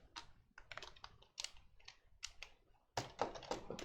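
Keys clatter on a computer keyboard in quick irregular bursts with short pauses, close and fairly quiet, no talking.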